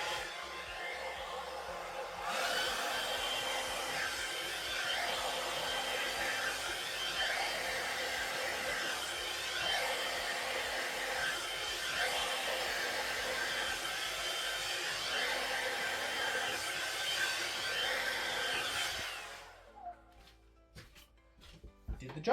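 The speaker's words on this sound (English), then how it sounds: "I'll get my hairdryer to blow this out. Just on the cool setting." A hairdryer on its cool setting blows over wet paint, switched on to a steady loud whooshing roar that holds for about seventeen seconds before cutting off, followed by faint handling clicks.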